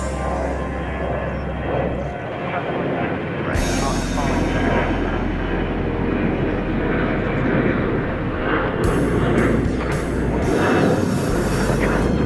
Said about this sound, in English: It's an Airbus A320 lifting off here in North Flow.